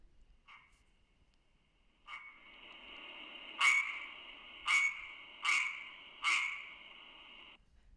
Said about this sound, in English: So this is a single Arizona tree frog calling.